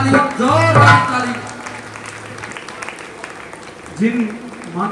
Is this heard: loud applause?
yes